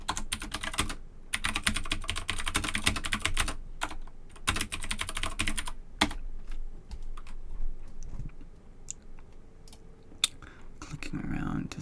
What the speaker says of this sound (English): I have received some Discord messages as I mentioned, so I will type responses to them.